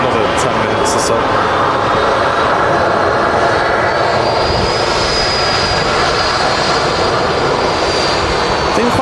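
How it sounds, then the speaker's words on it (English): A TUI airliner taxis out at Manchester Airport with a steady, loud jet engine whine and broad rushing roar that holds throughout, along with light talk in the background. "We got a TUI on the taxi out, some kind of aircraft."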